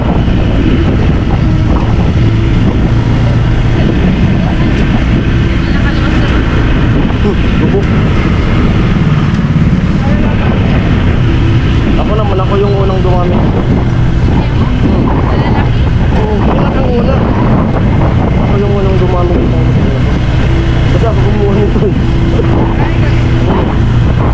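A motorcycle engine drones steadily while riding, with loud rushing wind buffeting the microphone throughout and occasional higher engine whines as it accelerates.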